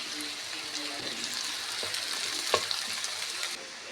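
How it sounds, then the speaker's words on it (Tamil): Steady sizzling of finely chopped garlic and green chili frying in hot oil, with occasional stirring clinks against the pan, close and continuous. "பொடியாக நறுக்கிய பூண்டை சேர்த்து நன்றாக வதக்கவும்"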